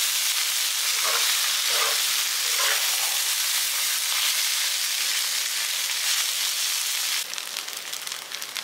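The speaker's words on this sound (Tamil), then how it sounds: "இப்போ எல்லாமே ஒன்று சேர்த்து நல்லா கிளறிக்கலாம்." Masala mixture for garlic pepper rice sizzling and being stirred in a pan, a loud continuous close frying hiss with a few scraping strokes, the texture shifting near the end, with no talk.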